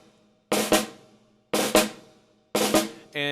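Snare drum struck three times in even succession, each hit followed by a controlled stick bounce that gives a short ruff, crisp and close in a quiet room, with a brief buzzing tail at the end.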